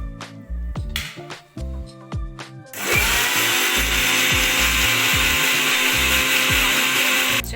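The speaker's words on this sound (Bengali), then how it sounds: "এবার আমি ওটসটাকে ব্লেন্ড করে নেব।" A kitchen blender grinds dry oats for an oats chilla, a loud continuous whirring roar that starts abruptly a few seconds in and runs steadily to the end, after some earlier clattering and knocking.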